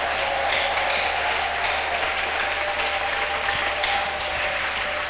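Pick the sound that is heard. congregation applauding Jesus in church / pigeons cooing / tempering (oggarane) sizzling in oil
congregation applauding Jesus in church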